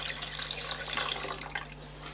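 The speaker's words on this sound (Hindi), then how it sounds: "और ये हमने इसमें पानी ऐड कर लिया है।" Water poured into a plain cooking pot of lentils, a continuous splashing trickle at moderate volume with no talking, against a steady low hum.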